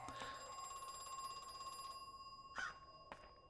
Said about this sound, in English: What is ringing? This phone?